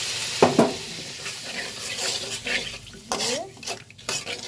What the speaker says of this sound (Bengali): অনেকক্ষণ পর মশলা কষাবো